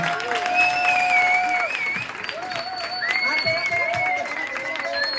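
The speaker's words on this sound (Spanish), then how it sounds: "ahora os pedimos que un aplauso final" Final round of applause at a PsychoBeers science talk in a bar: a continuous spread of clapping with cheering and a few raised voices over it, steady from start to finish.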